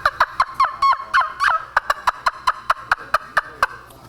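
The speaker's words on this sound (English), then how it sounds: "Trumpets are very good turkey calls because they're different." A hand-operated trumpet-style turkey call produces a quick series of sharp yelps close up. Some notes run into short clucking bursts, and the rest come as evenly spaced single notes in a steady rhythm, loud and clear over a quiet background.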